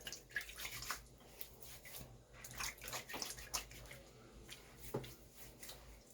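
Water splashes faintly and close by as a face is wetted for shaving, soft irregular dribbles and splatters with quiet drips, no talking.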